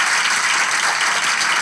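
A theatre audience at Performans Hall in İzmir claps in a brief, dense burst during a live comedy relationship-test show, the applause steady and close.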